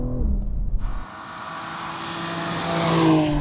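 Engine of a BMW M performance SUV in manual mode, revving hard with a gear change as the pitch drops then climbs again under acceleration, heard from inside the cabin.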